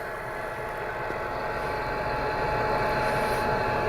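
A truck engine idles steadily with a low, continuous rumble and vibration, running alongside a CB radio setup with a Galaxy 94 HP radio; no talk, the hum holding even throughout.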